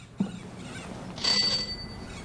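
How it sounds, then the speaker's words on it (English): Post office counter bell rung in the adventure game Gabriel Knight 2: The Beast Within, a single bright metallic ding that rings on briefly over faint background ambience. "Let's ring the bell."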